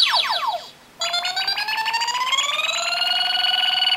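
A DX MMZ-01 Moe Moe Z-Kyun toy blaster from Hikounin Sentai Akibaranger plays a loud electronic charge-up effect: a quick falling chirp, a short gap, then steadily rising synthesized tones that build into a sustained, bright whine.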